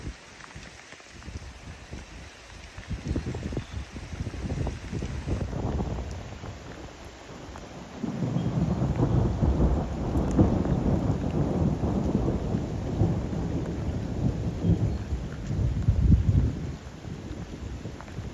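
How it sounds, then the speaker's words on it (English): Deep rumbling thunder rolls through a Cape Cod nor'easter on the shore at Wellfleet, building to a long, heavy roar over steady rain and wind before easing off. "Oh, lightning. Stand by."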